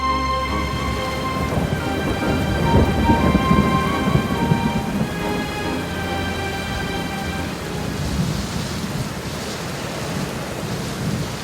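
Heavy rain pours steadily while deep thunder rolls and rumbles through the first half, then the downpour continues alone.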